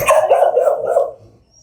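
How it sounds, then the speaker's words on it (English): A scared, nervous dog gives a single loud, close bark that trails off into a short whimpering tail, with no talking over it. "look at this dog"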